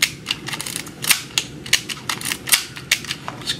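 A 35mm film camera clicks repeatedly at close range, its crisp mechanical shutter snaps and film-advance clicks coming in an uneven, quick sequence with no voices.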